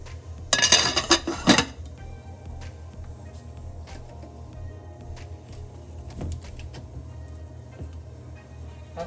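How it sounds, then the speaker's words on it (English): A lid goes onto a crockpot with a short burst of clattering and clinking near the start, then settles into a quiet room with faint scattered knocks. "I'm going to put the lid on"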